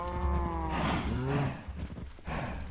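Cows in the Minecraft modpack Agrarian Skies give several loud, close, drawn-out moos in quick succession, one overlapping the next.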